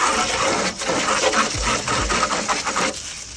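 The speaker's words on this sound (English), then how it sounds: "I'm outside, I have a garden hose in my hand" A garden hose sprays outdoors onto dirty PC hardware, a steady hissing gush of water with small irregular thumps and splatters as the stream hits the parts.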